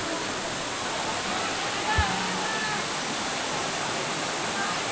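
Daranak Falls pours with a steady, broad rush of falling water that fills the whole clip, with one brief thump partway through and people talking faintly nearby.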